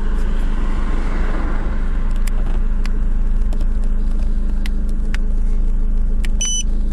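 A car engine idles steadily after starting, a low constant hum close by, with a few faint electronic beeps near the end.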